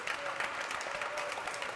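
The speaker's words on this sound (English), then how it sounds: "Another round of applause for the president." Brief, fairly faint applause for a president at a Newark African Commission event honouring freedom fighters, a steady patter of hands with no clear break.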